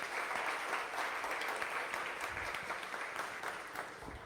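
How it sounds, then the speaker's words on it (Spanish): A church congregation claps together in steady, fairly soft applause that lasts a few seconds and tapers slightly toward the end. "Dele otra ofrenda de palmas a Jesús."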